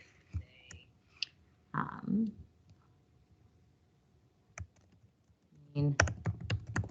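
Keystrokes from a computer keyboard while entering text in Canva, as short clicks scattered through the clip with a denser burst of rapid typing near the end. A faint voice briefly murmurs early on.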